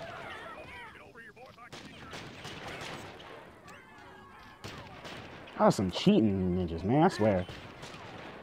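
Gunfire from enemies in the Oddworld: Stranger's Wrath video game, loud bursts of shots mixed with game effects under a player's frantic talking, with a louder stretch of sharp, rising effects near the end.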